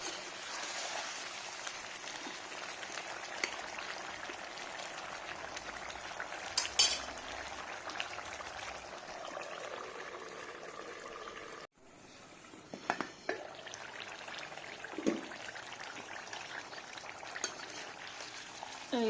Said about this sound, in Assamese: পানী বহুত বেছিও দি নিদিওঁ, অলপকৈ দি পেলাই ভাজি থাকিম